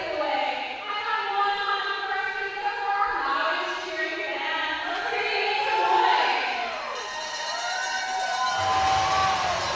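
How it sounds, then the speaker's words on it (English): Crowd at a Logan Lake vs. SFU hockey game cheering for a pizza giveaway: a steady arena roar of voices, layered with whistle-like tones and shouts, fills the whole stretch with a louder swell near the end. "The cheering is for the pizza giveaway"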